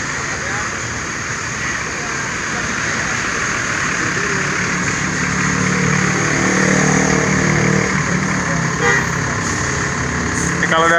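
A Sipirok Nauli Jet Bus 3 with a 1526 engine sits running, a steady, close diesel-like idle hum that swells slightly toward the end, with voices faintly present in the background.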